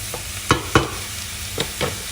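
A steady hiss of onions and green peppers sizzling in a pan, broken by four sharp scraping knocks as they are stirred.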